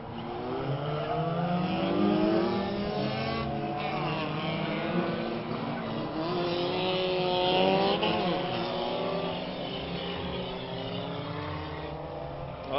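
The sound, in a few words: race cars racing at Orange Show Speedway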